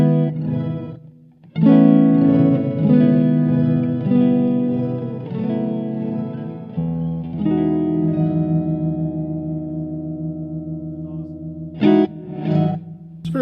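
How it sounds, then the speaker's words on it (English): Electric guitar played through a fuzz pedal with an octave-up and octave-down effect, sustained thick distorted chords ringing out alone, then a couple of short picked notes near the end. "Dude, I love that octave up, octave down thing. You can hear it just on the tail end of it."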